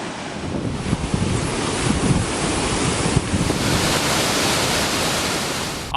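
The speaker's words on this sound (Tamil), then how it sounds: "மாயார் நீர்வீழ்ச்சியில் தண்ணீர் ஆர்ப்பரித்து கொட்டுகிறது" Mayar waterfall swollen with floodwater after continuous rain roars as a dense, constant wash of rushing water, loud and unbroken from start to finish with a wind-buffeted rumble and no voices.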